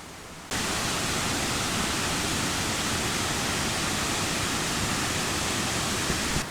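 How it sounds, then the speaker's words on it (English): Loud, constant roar of rushing river rapids in the Cameron Highlands, Malaysia, starting abruptly and holding a dense, unbroken hiss with no voices. "Not sure if you can hear me or not over the noise of the rapids"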